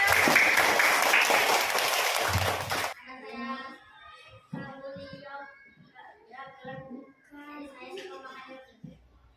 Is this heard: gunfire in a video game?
no